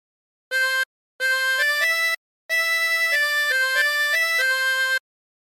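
Harmonica plays a phrase of the nursery tune Incy Wincy Spider, with clear, bright single blown and drawn notes in short groups separated by brief pauses, heard alone and close.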